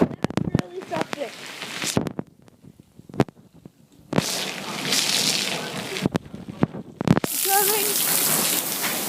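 Heavy rain pours down during a 2008 winter storm, arriving in loud rushing bursts with sharp thumps and gaps, while a person talks and exclaims close by.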